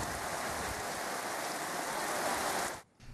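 Heavy rain pours steadily in a downpour around Aranthangi and Avudaiyarkoil in Tamil Nadu, a dense, even hiss that stays loud throughout before cutting off abruptly near the end.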